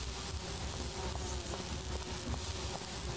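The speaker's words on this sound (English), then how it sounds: "Oh, these are the bees." Bees buzzing in the video game Grim Fandango, a steady, dense insect drone that holds at an even level throughout, alone with no talk.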